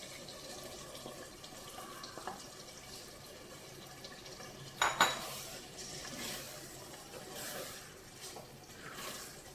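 Tender tamarind leaves go into mutton already browned in a pan, giving a sharp clatter partway through amid a steady low frying hiss and light scraping of the pan.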